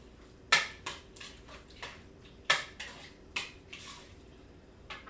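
Chicken tortilla casserole ingredients with drained Rotel tomatoes being stirred together in a dish, a spoon scraping and clinking against the dish in a series of irregular strokes, close and fairly quiet, with no talking.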